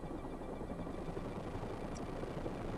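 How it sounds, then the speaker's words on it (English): A helicopter sound effect plays as quiet background ambience, a faint steady rotor drone that holds low and even for the whole short stretch, with no voices over it. "I don't want the helicopters too loud"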